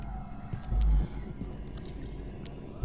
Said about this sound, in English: I'm gonna keep eating the donut,